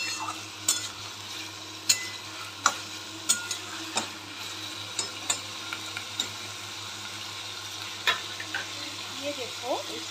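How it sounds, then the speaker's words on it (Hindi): Chopped green chilies frying on a high flame in a pan, with a steady sizzle and the clink of stirring against the pan, sharp taps recurring every second or so throughout. "फ्लेम को हाई करके, ओवन का फ्लेम को हाई करके इसको अच्छे से फ्राई करना है।"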